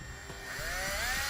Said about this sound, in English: we are going to have to drill a little 1/4-inch hole right in the middle of the tab